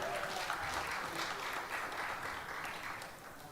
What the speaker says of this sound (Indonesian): Kita tepuk tangan untuk PKS.